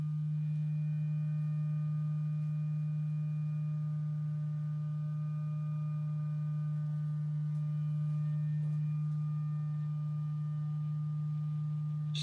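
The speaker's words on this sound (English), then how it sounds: "I'd turn off my regular microphone so you could hear the internal fan on this unit" Internal cooling fan of an Anker SOLIX E10 power unit running while charging, giving a steady low hum with faint higher whine tones, constant and unbroken throughout with no talk.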